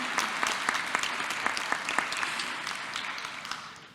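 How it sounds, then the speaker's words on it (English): Audience applause at a fall university convocation honoring an alumna, steady dense clapping from a sizable crowd with sharp individual claps standing out, fading slightly toward the end. "Let's give her a round of applause."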